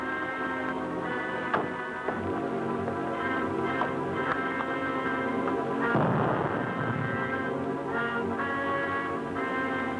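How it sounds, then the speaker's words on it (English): A deep explosion boom bursts out about midway through, from a 1944 film, over a steady backdrop of loud, droning tones, with a sharper crack a few seconds earlier. "I heard an explosion."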